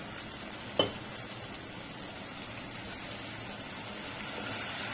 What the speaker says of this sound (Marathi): आणि हे सुद्धा आपण काही सेकंदासाठी परतून घेऊया.